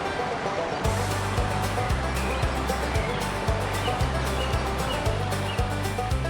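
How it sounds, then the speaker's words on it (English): A waterfall heard from a trail among caverns and bridges, a constant loud rushing roar of falling water, with a rhythmic low thumping underneath, likely footsteps. "The sound of that waterfall, it's so beautiful."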